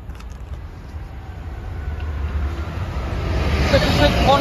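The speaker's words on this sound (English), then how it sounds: "Here's your freight train." Freight train passing a level crossing at Denaby, a low rumble of wheels and engine building steadily louder as it approaches, with higher rail squeal rising near the end.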